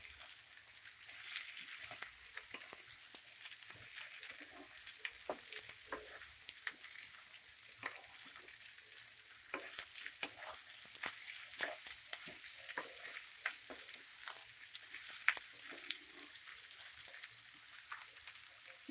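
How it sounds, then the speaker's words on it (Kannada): Chopped green beans frying in hot oil for beans palya, a continuous soft sizzle broken by frequent sharp clicks and scrapes of a spoon stirring in the pan, fairly quiet and steady with no talking. "ಈಗ ಸಣ್ಣ ಕಟ್ ಮಾಡಿರೋ ಬೀನ್ಸ್ ಹಾಕ್ಕೊಳ್ಳಿ. ಚೆನ್ನಾಗಿ ಮಿಕ್ಸ್ ಮಾಡ್ಕೊಳ್ಳಿ."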